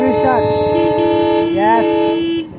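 The horn of an Alco diesel locomotive blaring loud and close in two long, harmonically rich blasts with a brief dip in between, ending abruptly.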